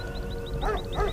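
A dog barks and yips in quick repeated bursts, close and loud, over a steady background hum with a repeating high chirping tone.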